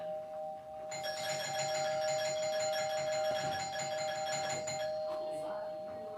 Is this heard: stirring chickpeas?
no